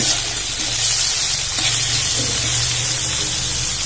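Onions frying in a pan for a simple bachelor-style chicken curry: a loud, steady, close hissing sizzle that holds without break.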